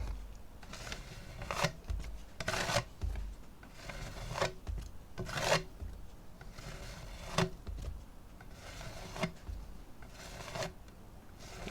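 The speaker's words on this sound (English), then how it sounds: "we will just scrape it off" Paint being scraped off the edge of a flip cup pour during acrylic pour painting, heard as a run of repeated rough scraping strokes at close range, roughly a dozen passes with short pauses between them and no talk.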